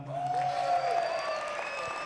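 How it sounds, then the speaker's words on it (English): Conference audience at a motivational speaking event clapping for a speaker, a dense steady patter of applause filling the hall with tonal music or feedback lines running underneath. "Could you give Jesse a big clap?"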